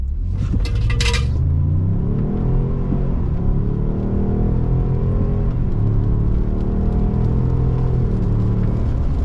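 A 2023 Ford F150 Tremor 4x4 pickup accelerates hard, its engine roaring loud and steady throughout, with rumbling road noise and brief rattles from loose gear in the bed near the start.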